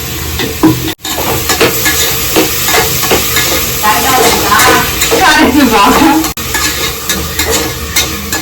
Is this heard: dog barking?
no